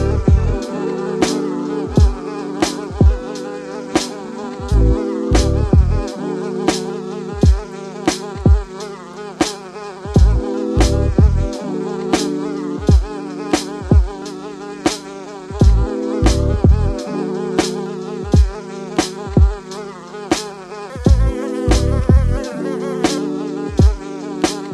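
Insect-like buzzing recurs in short, regular bursts over a looping musical backing, loud and close, with sharp clicks marking each repeat.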